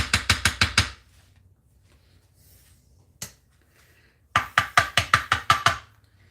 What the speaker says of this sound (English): my phone being on vibrate.